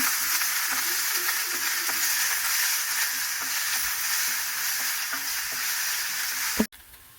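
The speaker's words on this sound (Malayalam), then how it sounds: "സവാളയും പച്ചമുളകും കറിവേപ്പിലയും ഒന്ന് വഴറ്റുണ്ട്" Sliced onion, green chili and curry leaves sauté in a hot pan for a breakfast dish, a loud, steady sizzle with faint stirring scrapes, ending in an abrupt clunk and a drop to near silence.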